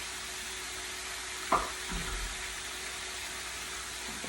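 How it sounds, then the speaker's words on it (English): Chicken frying in a pan over the highest heat gives a steady, moderate sizzle, with a brief clatter partway through and a low rumble just after. "so you can see better what's going on here with the chicken frying"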